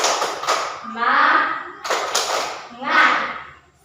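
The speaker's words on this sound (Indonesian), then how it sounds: "Tepuk semangat." A group claps a quick rhythmic spirit-clap pattern, then voices shout in unison; the clap-and-shout sequence happens twice, close and lively.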